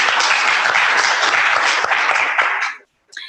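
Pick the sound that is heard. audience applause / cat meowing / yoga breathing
audience applause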